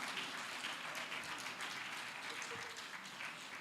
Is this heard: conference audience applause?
yes